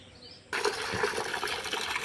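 A motor pump starts up and water gushes out to irrigate newly planted saplings, a steady broadband rush that begins abruptly after a quiet moment and continues loud and unbroken.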